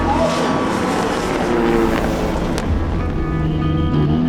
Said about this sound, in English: The cars drive quickly back to the paddock.